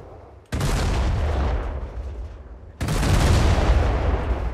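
Heavy artillery fire near a besieged city in a tank battle game: two loud, close blasts, each hitting abruptly and rumbling on for a couple of seconds, with no voices over them.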